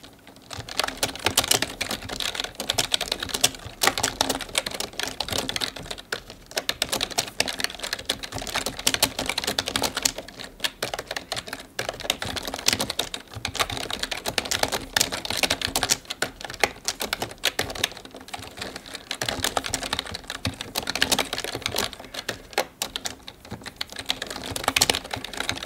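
Rapid computer keyboard typing during an online typing race, a dense, continuous clatter of keystrokes that runs steadily and close up with no talking.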